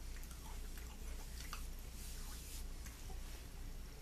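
Mini Cinnamon Toast Crunch cereal pieces are chewed close to the mouth, a faint, continuous crunching and squishing with a low steady hum underneath and no talk.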